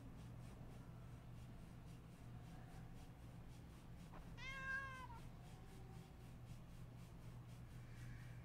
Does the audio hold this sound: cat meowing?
yes